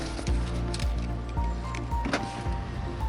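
Repeated soft motorized whirs and clicks from a Range Rover Velar R-Dynamic V6's door handles and wing mirrors retracting, close by, several short bursts with a low mechanical hum beneath.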